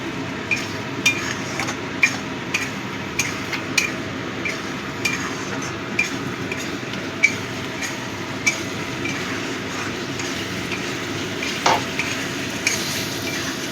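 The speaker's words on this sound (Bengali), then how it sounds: "এবার গরম জল দিয়ে ভালো করে মশলাটা কষিয়ে নেব।" Spice paste for a mourola fish curry is sautéed with a splash of hot water in a pan: a steady, close sizzle with regular light clinks and scrapes of stirring.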